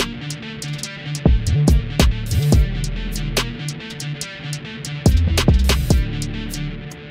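Drill beat with a piano lead shaped to sound like a guitar, over deep sliding bass, hi-hat rolls and punchy drums, playing steadily and loudly without any talking.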